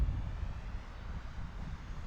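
An Eachine Mini F4U EPP Corsair, a small 400mm RC foam plane, drones overhead with a low, rumbling motor hum mixed with wind buffeting on the microphone, fairly steady throughout.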